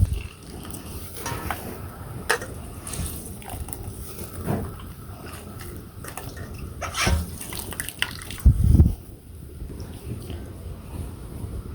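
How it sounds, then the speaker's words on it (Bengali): Soya chunks are squeezed and rinsed by hand in a pot of water in a home kitchen, with soft sloshing, dripping and splashing that turns louder near the end, close up and with no talk. "সয়াবিনগুলো ভালো করে চিপড়িয়ে ধুয়ে নিয়েছি তো আবারও শেষ একটা চিপড়ে নিয়ে ধুয়ে দিন"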